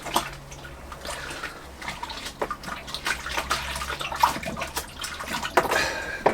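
Boiling hot water pours into a home-brewing kit container for a Pilsner, a steady splashing, gurgling stream close by with shifting intensity throughout and no talk over it.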